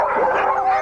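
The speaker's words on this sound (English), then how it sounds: "They bark incessantly and lunge forward against" Excited sled dogs, eager before a run, let out a brief, loud, close bark with a strained, howling edge.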